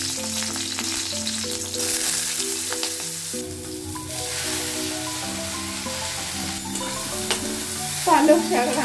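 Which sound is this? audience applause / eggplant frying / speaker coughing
eggplant frying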